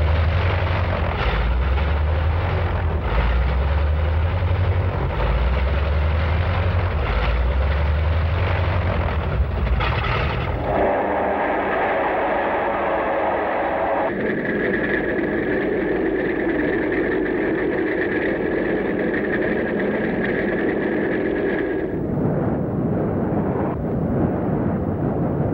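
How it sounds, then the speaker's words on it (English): Military aircraft engine running steadily before takeoff, its wings unfolded and locked, a loud continuous roar with a low throbbing pulse early on, then shifting to a smoother drone with a sustained higher whine. "with its wings unfolded and locked into place, the lead plane was all set to go"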